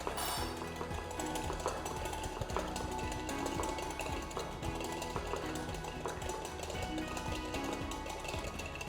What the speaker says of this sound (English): start whisking the egg yolk with